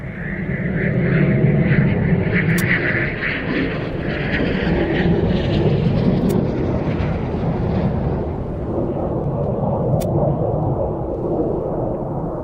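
A fixed-wing aircraft comes in to land at an airfield, its engines a loud, steady roar that holds through the whole stretch with no talk.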